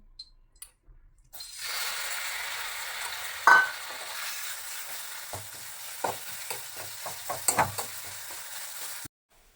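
Soaked dates fry in a little homemade desi ghee for sugar-free laddus. After a brief quiet start, a close, even sizzle hisses on, broken by a few sharp spatula clicks and knocks, then stops abruptly.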